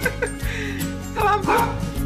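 A dog at bath time gives a series of close, high-pitched yips, whines and whimpering barks in quick succession, loud and near.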